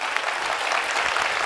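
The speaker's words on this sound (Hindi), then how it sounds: "तो एक जोरदार ताली उनके लिए" A crowd at a large religious gathering claps loudly for the volunteers, a dense, sustained wash of hand claps with no gaps.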